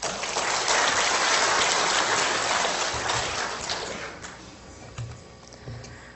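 A church congregation applauds in blessing, a broad hiss of many hands clapping that swells early, then thins and fades out over the final seconds, leaving scattered faint claps and room noise.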